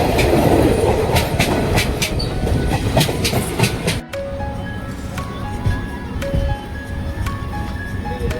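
A train rolls through Betul railway station in India, a loud rumble and clatter of carriages with clickety-clack of wheels, easing into quieter running with faint tonal squeals after a few seconds.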